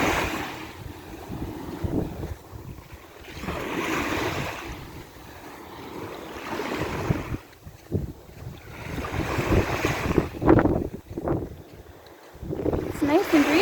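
Breeze gusting across a beach shoreline, with broad rushing wind swells that rise and fall under a voice talking close to the microphone.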